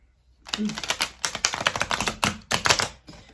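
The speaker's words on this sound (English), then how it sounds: "One more shuffle." A tarot card deck being shuffled by hand, a dense run of quick crisp card riffles and flicks close up, beginning after a short silence.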